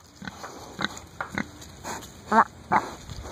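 A farm pig grunts close by in a string of short, snorting grunts spaced irregularly, some sharper and louder than others, over a quiet background.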